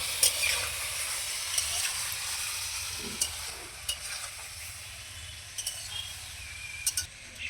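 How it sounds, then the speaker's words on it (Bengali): A Bengali vegetable chorchori being stirred with a mustard and green chili paste in a pan: a faint, low hiss of cooking with occasional soft clinks and scrapes spaced through it. "এই চচ্চড়ির মধ্যে দিয়ে দেবো সবজির সঙ্গে মশলাটাকে মিশিয়ে নেবো"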